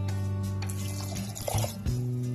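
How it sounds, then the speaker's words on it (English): A cup of purified water from the fridge poured into a stew pot on the stove, a short soft liquid splash and gurgle over a steady low hum, heard alone and fairly quiet. "I'm going to add a cup of water"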